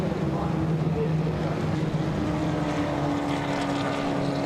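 A Porsche 1500 Super Continental Coupe races out of a turn, its engine droning steadily at a distance with shifting pitch, mixed with broadband track noise and faint commentary voices beneath.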